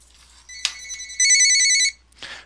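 Telephone ringing from an Adobe Connect dial-in call: a short electronic ring burst, then a longer steady trilling ring, with a brief rustle at the end, clear and close.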